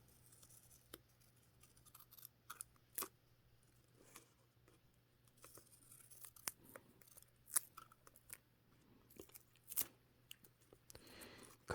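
Scissors make quiet, scattered snips and crisp clicks while cutting duffle bag fabric in half, with irregular gaps between cuts in a still room and no voices.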